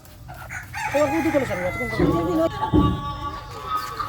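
Poultry at a small hobby farm, with a rooster crowing loudly and close in a long drawn call while hens cluck around it, over a busy outdoor background.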